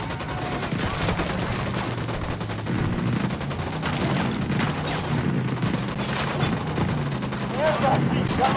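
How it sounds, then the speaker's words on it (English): Gunfire in the video game Ghost Recon Wildlands, a sustained volley of rapid shots from several weapons with a booming low rumble, loud and continuous throughout. "Fire, fire, fire. Opening fire."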